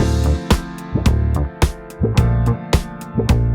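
Dry funk drum groove played loud and close, with tight kick, cracking snare and steady hi-hat locked to a deep bass line, and no talking.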